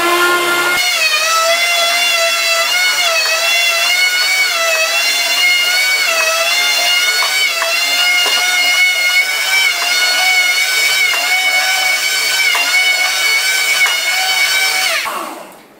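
Electric slicer running through beef jerky makes a loud, steady motor whine with wavering harmonic tones for about fifteen seconds before winding down, close up and without talk.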